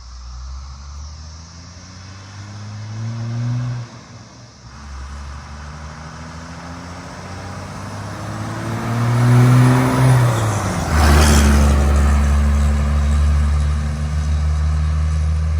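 A Cummins diesel truck fitted with an MBRP 4-inch exhaust and muffler rumbles deeply at idle, then revs up with rising turbo whine and spool, settling into a loud, steady drone near the end.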